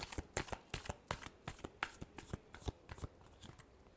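Tarot cards being shuffled by hand, a quick rhythmic run of crisp riffling slaps repeating about every third of a second, close and fairly quiet, with no voices.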